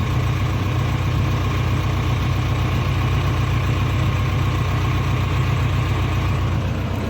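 A tractor engine idles steadily and loudly close by, a constant low chugging drone throughout with no talking.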